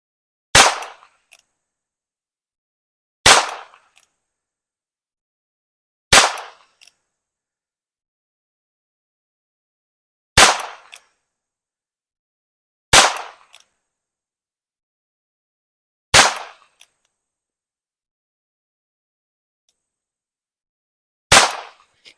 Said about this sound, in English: So we're going to shoot it and see how accurate it is when you shoot it.